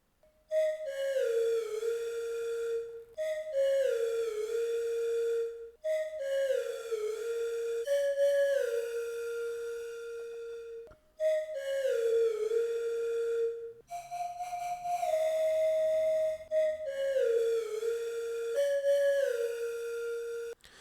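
A melodic whistled tune processed with reverb in repeated phrases, each note sliding down and trailing off in a long reverberant tail, loud and alone.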